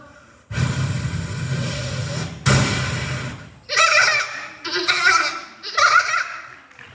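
In a school mimicry competition, a voice bleats like a goat in several drawn-out, nasal calls, first two long ones, then three shorter wavering bleats, close and fairly loud.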